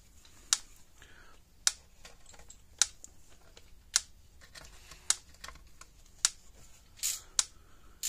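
A repaired 35-year-old Gallagher BEV3 electric fence charger clicking in a steady rhythm, sharp ticks roughly once a second, close and clear over a quiet room.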